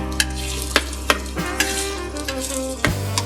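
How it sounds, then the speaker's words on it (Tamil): Onions frying in coconut oil for a chicken bamboo biryani, stirred with sharp utensil clinks and scrapes over a steady close sizzle and a low hum. "இப்போ ஆனியன்லாம் ஃப்ரை ஆக கொஞ்சம் டைம் ஆகும்."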